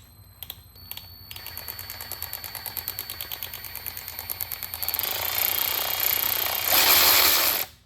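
A SHIELDPRO cordless ratchet with a deep socket and a variable-speed paddle trigger runs close by. Its ratcheting clicks come slowly and evenly at first, then speed up into a loud, continuous whirring buzz that stops abruptly.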